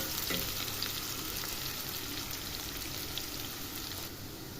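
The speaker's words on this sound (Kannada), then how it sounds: "ಇವಾಗ ಇದು ಎಣ್ಣೆಲೇ ಫ್ರೈ ಆಗ್ತಿದೆ" Chopped onions frying in hot oil for a potato kurma give a steady, close, even sizzle that runs unbroken from start to finish, with no voices over it.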